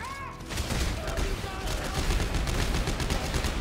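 Rapid gunfire from a standard gun in a co-op shooter video game, a dense, loud, sustained burst of overlapping shots after a brief quieter opening, with players talking over it.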